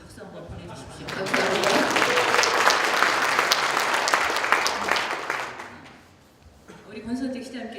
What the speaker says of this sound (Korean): 아주 훌륭한 우리 아나운서를 위해서 여러분 박수 한번 보내주십시오.